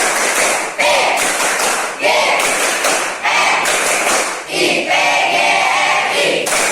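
Junior high students in a classroom performing a rhythmic group clap chant, sharp synchronized bursts of clapping and thumps in a patterned sequence, punctuated by short pauses and chanted voices.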